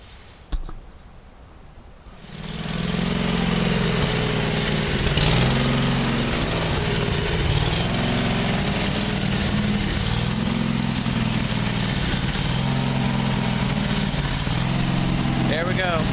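A small engine, just cleaned with carburetor cleaner, starts with a few sputters and then settles into a steady, loud, rhythmic idle that runs on without a break.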